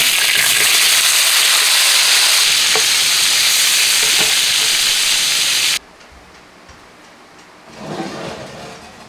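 Tomatoes frying in oil in a pot for homemade country tomato sauce give a loud, steady, close sizzle that cuts off abruptly, leaving a quieter background with a brief soft stir near the end.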